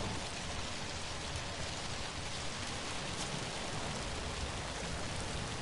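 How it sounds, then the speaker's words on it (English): Steady rain in the video game Zombi, a dense, even hiss of falling drops spread across the whole range, fairly quiet and continuous with no voices. "it's raining down more than usual in this game."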